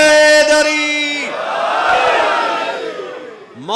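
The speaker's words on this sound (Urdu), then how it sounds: "نجف تک نعرے دی صدا ونجے ہاتھ بلند کر کے حیدری" A large religious gathering at a mourning assembly hall shouts the slogan "Haidari" in unison with raised hands, after a leader's sustained chant, a loud massed roar that swells and fades.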